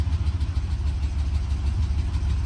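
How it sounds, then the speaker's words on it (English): A car engine idles steadily at a low rumble while the transmission is shifted into gear, a constant close drone with slight pulsing and no talk. "Let's put it in gear, see how the transmission feels going into gear."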